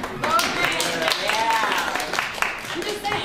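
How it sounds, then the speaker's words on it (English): Audience applause for an opera singer after a Traviata discussion, steady close clapping from a small crowd throughout with voices mixed in. "let's just get a little applause for Lauren."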